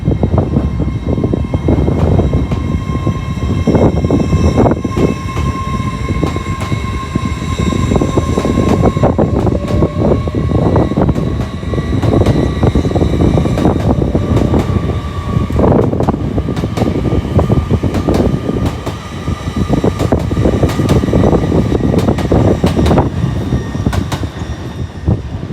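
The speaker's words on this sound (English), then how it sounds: "Here's 1223 with the 1216 LNER Azuma from London King's Cross to Leeds." An LNER Azuma train from London King's Cross to Leeds passes through Doncaster station with a loud, sustained roar and whine of traction and rolling wheels that continues steadily throughout, nearby and alone.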